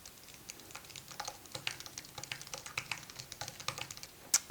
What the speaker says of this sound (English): I am going to do a close-up of me typing